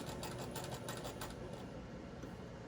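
A sewing machine stitches a small doll blouse, its needle running in a quick, steady mechanical rhythm that is loudest early on and then eases to a softer, even hum.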